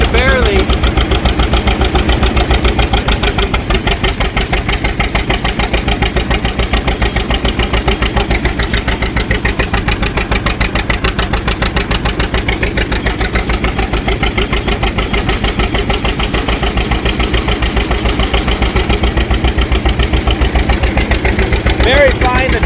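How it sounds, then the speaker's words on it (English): An antique tractor engine idles loudly at close range with an even, rapid chugging beat that holds steady throughout, while a person talks over it. "it changes the load on the engine"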